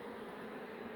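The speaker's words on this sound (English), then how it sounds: "We do have bees still down in the cavity, and we've got bees" Honeybees swarm around an open beehive cavity, a steady dense insect hum filling the air continuously and fairly close, with no voices.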